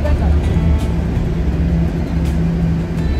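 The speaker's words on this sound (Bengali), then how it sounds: "এই যে রাডস্টাড স্টেশন যাবার বাস চলে এসেছে।" A bus pulls up at a stop near Ramsau am Dachstein in the Austrian Alps, its steady low engine rumble and idle hum filling the scene up close, with people talking over it.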